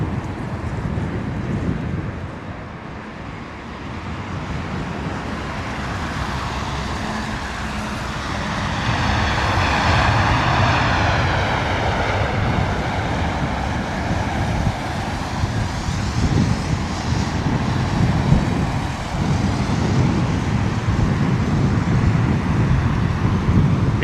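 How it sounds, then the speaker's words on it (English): A British Airways Boeing 777 inbound from Atlanta lands at Heathrow in wet, windy weather, its engine roar building into a sustained, swelling rumble mixed with wind and road noise. "British Airways 226 777 coming in from Atlanta"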